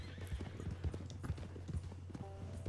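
Horse hooves clip-clopping in the video game Red Dead Online, a steady rhythmic trot of close, moderately loud hoofbeats with faint background tones.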